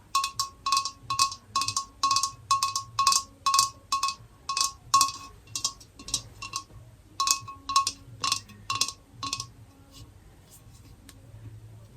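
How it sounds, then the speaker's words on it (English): Small Roman object from Britain tapped repeatedly in a quick, even rhythm of sharp, bright clicks, close and crisp, slowing and fading toward the end. "they look quite funny and they tap well."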